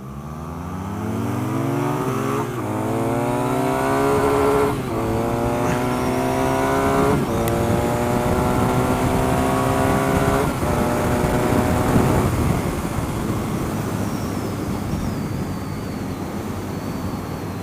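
A BMW R nineT motorcycle being ridden: its engine revs up repeatedly through the gears in rising sweeps, loud and close, with steady wind rush and no talking.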